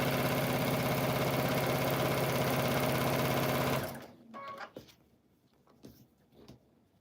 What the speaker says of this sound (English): Again, we're just sewing up all the scraps.